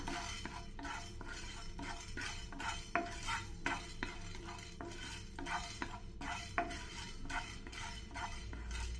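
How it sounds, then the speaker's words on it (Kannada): Black pepper and fenugreek seeds dry roasting in a hot frying pan, quiet rhythmic scraping and rattling as a spoon stirs them, with faint sizzling and light clinks, close and soft, no talking. "ಮೆಣಸು ಮತ್ತು ಮೆಂತ್ಯ ಹಾಕ್ಕೊಳ್ತಾ ಇದ್ದೀನಿ ಇದು ಕೂಡ ಬೇಗ ಆಗೋಗ್ಬಿಡುತ್ತೆ ಆಲ್ರೆಡಿ ಫ್ರೈ ಪ್ಯಾನ್ ತುಂಬ ಬಿಸಿಯಾಗಿರುತ್ತಲ್ಲ"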